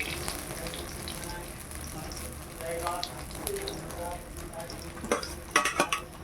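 Pabda fish frying lightly in oil gives a faint, low sizzle with scattered clinks and stirring noises, plus a few sharper scrapes toward the end.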